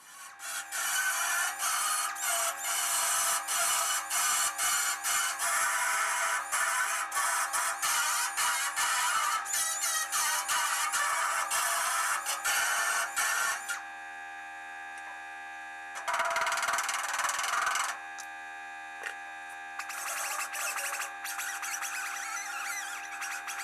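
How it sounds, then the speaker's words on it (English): An angle grinder grinds down a weld on the steel trunk floor of a Triumph TR250. The harsh, steady grinding is loud and close, with a brief drop near the middle before it picks up again. "Grind down the weld."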